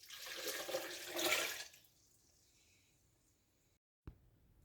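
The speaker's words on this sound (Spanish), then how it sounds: "Ahora le agregamos medio litro de agua." Water is poured into a food processor holding fruit pulp for banana passion fruit juice, a soft hissing splash that fades out over a couple of seconds, followed by a short sharp knock.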